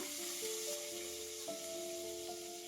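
Crushed garlic frying in hot oil in a pan gives a quiet, steady sizzle throughout, with a few faint tonal hums mixed in and no talking.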